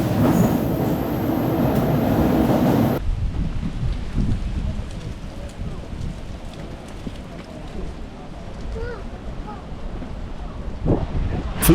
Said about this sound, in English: You can get from Myllypuro to Sörnäinen by metro.